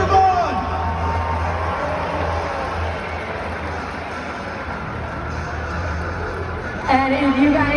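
Arena crowd at a Monster Jam event in Buffalo's KeyBank Center cheering and whooping for an FMX rider, a broad sustained roar of many voices with a louder swell near the end.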